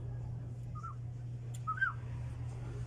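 Two short whistles from a person trying to get someone's attention during a motorcycle oil change, the second a rising-falling two-note call, fairly faint over a steady low hum.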